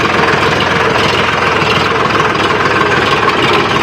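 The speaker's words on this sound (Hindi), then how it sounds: "ये वो ट्रैक्टर यहाँ भी फंस गया था दोस्तों" Tractor engine running on a rough farm track, a loud, continuous, close rumble with steady mechanical vibration throughout and no talking.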